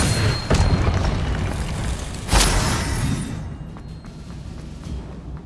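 The Expelliarmus disarming spell goes off in Hogwarts Legacy, with a deep booming burst followed by a second heavy thud a couple of seconds later over rumbling game ambience.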